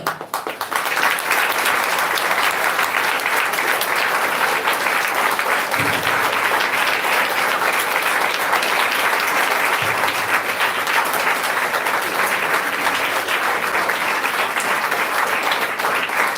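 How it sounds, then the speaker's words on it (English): Long, loud audience applause following a memorial lecture, thick continuous clapping from a large crowd that holds steady at full strength for over sixteen seconds. "That's why the clap, the applause is so long and so loud"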